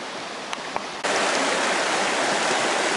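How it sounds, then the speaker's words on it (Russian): A small mountain river tumbles over low rapids in East Kazakhstan, a dense, loud rushing hiss that jumps in volume after a second and then flows on steadily, with a couple of faint knocks early on. "Вот она, речка. О, тут даже порожек какой-то есть."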